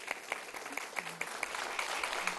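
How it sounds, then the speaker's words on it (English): Scattered applause from attendees at a school board general session meeting, honoring applicants; moderate, fairly distant clapping with faint voices murmuring underneath. "let's give a round of applause to all of our applicants"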